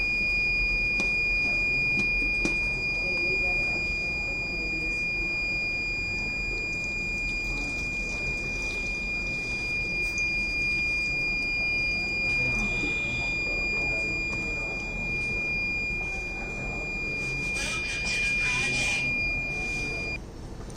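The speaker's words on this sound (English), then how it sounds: "that's why this buzzer having a noise" A steady, high-pitched electronic buzzer tone from a Raspberry Pi Pico water level flood detector sounds continuously for most of the stretch, with faint background noise and brief clattering near the end.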